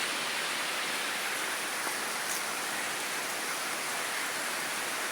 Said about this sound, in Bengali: তারপর হচ্ছে বাইরে প্রচুর বৃষ্টি, বজ্রপাত।